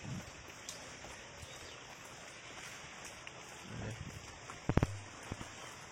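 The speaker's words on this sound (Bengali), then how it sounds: "বৃষ্টি হচ্ছে। বৃষ্টি হচ্ছে।" Steady rain falls throughout, a soft, even hiss of drops on surfaces with a few brief knocks and thumps near the end. Nobody speaks.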